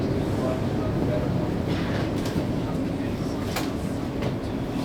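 A Vienna S-Bahn S45 train on the Vorortelinie pulls into Wien Heiligenstadt station, a continuous low rumble of wheels and carriages with a few brief metallic squeals and clicks, close and steady.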